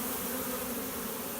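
A swarm of bees drones steadily and close, a dense continuous buzz with a low hum, with no talk over it.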